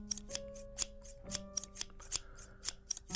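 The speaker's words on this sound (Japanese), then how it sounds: "ハサミの音がチャキチャキする。" A barber's scissors snipping hair, a steady rhythm of crisp close metallic snips, about three per second, over soft sustained background tones.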